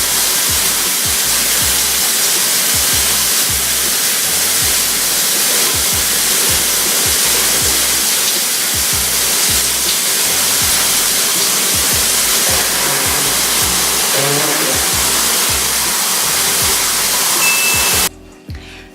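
Shower spray pouring steadily as a person stands directly in its blast, a loud continuous hiss of falling water that holds without a break before cutting off abruptly near the end.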